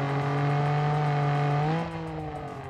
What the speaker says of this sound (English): It sounds like sequential gearbox.